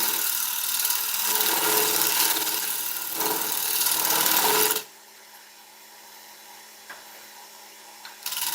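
A skew chisel cuts wood spinning on a lathe, a loud close hissing, rasping shear for about five seconds that stops abruptly, leaving only a faint motor hum and a few small clicks.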